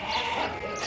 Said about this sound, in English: they were rounding up the sheep to pen them in for the day